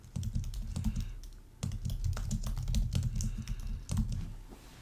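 Close, steady typing on a computer keyboard, rapid light key taps in continuous runs with a couple of brief pauses, over a low hum and no talking.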